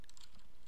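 Computer keyboard keys clatter in a brief, fairly quiet burst of quick irregular taps, alone with no voices, during a Thief (2014) playthrough.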